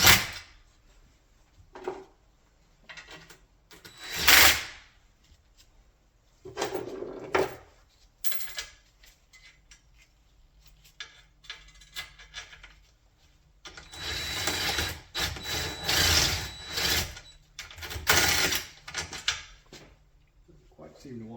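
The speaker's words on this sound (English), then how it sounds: "Put lug nuts on with an impact wrench." An impact wrench spinning lug nuts onto a trailer hitch wheel, with scattered short rattling bursts, then a longer cluster of close, loud hammering toward the end, with quiet handling noises between.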